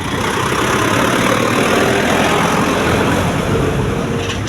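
A tractor engine idles close by in a Punjab village, steady and loud, with a constant low rumble and no clear change in pitch.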